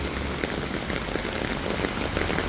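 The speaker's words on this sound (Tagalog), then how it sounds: "Umuulan na nga po ng yelo. Nag-hailstorm na." Dense, steady pattering of hail striking a surface, loud and continuous with no voices, a constant hissing clatter throughout.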